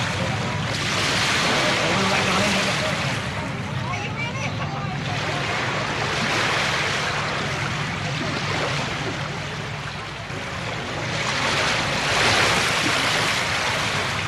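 Ocean waves wash steadily around a small floating grill on the water, a loud continuous roar of surf and splashing with slow swells in intensity throughout.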